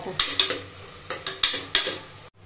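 Finely chopped tomato sautéed in a pan, heard as a few distinct scraping stir strokes in quick bursts with a light sizzle underneath, close and moderately loud, ending abruptly.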